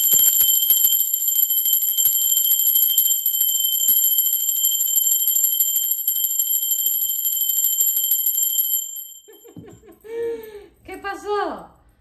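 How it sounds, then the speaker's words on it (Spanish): During a tarot reading, a high-pitched bell rings with a sustained shimmering tone that fades after several seconds, followed by a person talking. "Aprovecha en ese momento de la campana, el sonido es un sonido de alta frecuencia"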